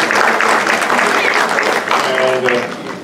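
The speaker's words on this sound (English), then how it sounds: "Let's give a big round of applause to that Shiva Ramuri." Sustained applause from an audience at a Hindu homa and puja ceremony, steady and loud throughout, with faint tonal sounds entering near the end.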